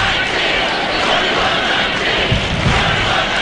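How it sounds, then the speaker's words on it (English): Crowd of spectators in the cheering sections at a women's volleyball final between Stanford and Penn State, chanting loudly and continuously in a large arena, a dense roar filling the whole moment. "a chant of 21-19 now breaks out from both cheering sections"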